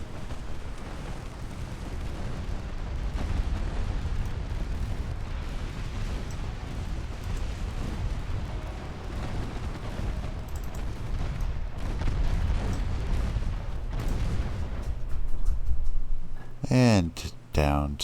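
Torpedo hits and explosions on warships in a naval strategy video game, a continuous low rumbling roar of blasts and fire for most of the clip, ending with a brief distorted tonal sound.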